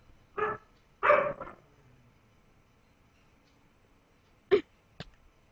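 Dog barking somewhere nearby, with two short bursts, then a pause, then two sharper yaps, loud and close with no talking during them.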